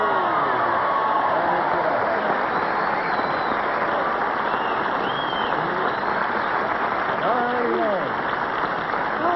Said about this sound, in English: Did that bring joy to your heart, that warm applause?